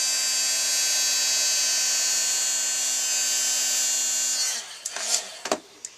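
A heat gun blowing on sticky embossing powder, a steady high-pitched whirring drone that holds for several seconds before cutting off, followed by a few brief clicks and knocks.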